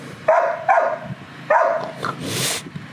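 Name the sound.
dog growling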